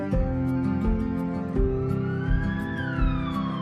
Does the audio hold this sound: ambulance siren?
yes